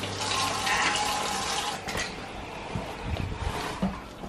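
Water is poured into chickpea pancake batter, a close, steady splashing rush that tapers into softer trickles and stirring sounds.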